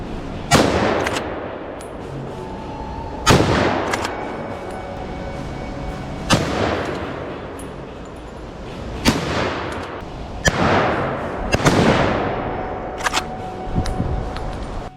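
Wild boar are shot at outdoors in Spain. About six loud, sharp gunshots ring out at irregular intervals, each trailing off in a long echoing decay, with a couple of quicker reports close together near the end.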